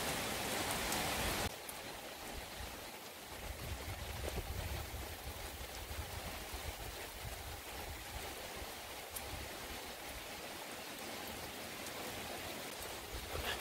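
Heavy rain pours steadily through an evening thunderstorm, a dense, unbroken hiss of water on surfaces that stays fairly loud for the whole span after a brief louder burst at the start, with no voices.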